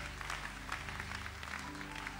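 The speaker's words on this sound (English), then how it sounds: "Are you clapping?" Conference audience applauding, a dense, steady patter of many hands clapping at even loudness throughout, with faint voices mixed in.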